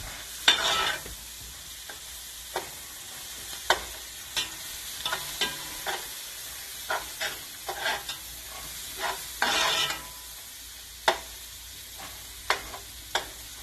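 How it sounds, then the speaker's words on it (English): Onions fry in a pan for instant noodles with eggs, a soft steady sizzle punctuated by sharp, irregular clicks and scrapes of a utensil stirring, with a few brief louder bursts and no voices. "At this stage, I will stir and allow it to cook."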